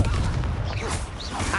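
A Confringo blasting-spell explosion in the Hogwarts Legacy video game, a loud, dense burst of booming, crackling noise that fills the whole brief moment.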